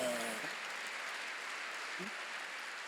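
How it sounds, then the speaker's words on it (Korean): A church congregation gives a soft, fairly quiet round of applause, with a brief voice at the start and another short vocal sound partway through. "믿는 사람만 박수하세요."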